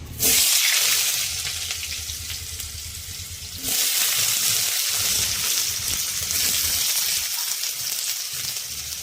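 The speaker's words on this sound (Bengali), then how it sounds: "আলুটা ভেজে নেব।" Potatoes frying in hot oil in a pan, a loud close bubbling sizzle that drops briefly and then surges back as the pieces are moved around.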